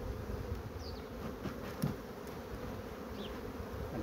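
Steady insect buzzing from honeybees at two neighbouring hive boxes fills the background, a continuous low drone with a few brief louder passes near the middle.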